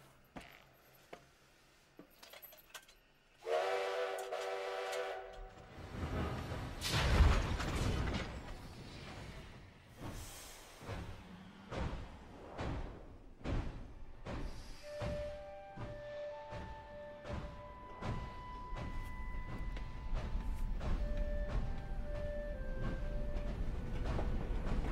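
A train rumbling and clattering along, with rhythmic clanks and knocks, then a rising hiss and scattered high tonal squeals as it moves, in an animated Polar Express scene.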